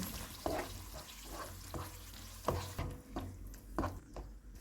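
Green chilies, salt, garam masala and hot chili sauce being stirred in a pan for a hot and spicy chicken dish, with a steady sizzle broken by a handful of sharp spoon scrapes and clacks against the metal.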